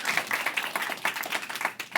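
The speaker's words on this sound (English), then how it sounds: "Round of applause for these guys" A small audience gives a brief round of applause, with distinct individual claps that come through clearly in an uneven rhythm, moderately loud and close.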